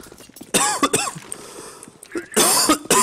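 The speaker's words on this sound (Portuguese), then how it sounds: "Até tossiu." A few sharp coughs and throat-clearing bursts, loud and close, separated by brief pauses with faint background noise.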